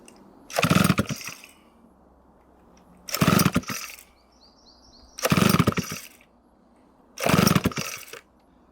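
A circa-1960 Homelite 600-D chainsaw is pulled four times in an even rhythm, each loud pull-start burst coughing briefly without catching, with quiet pauses between.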